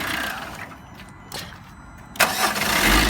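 A van that had been a non-runner starts up after repair work, a short crank catching into a steady running engine that swells louder near the end, heard close by.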